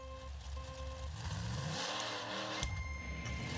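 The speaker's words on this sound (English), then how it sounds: "Bad RPM. I was over round. I was over revved." A monster truck engine revs hard at a race start in the Monster Truck Championship video game, a steady loud roar that holds high and sharpens near the end, with no talk over it.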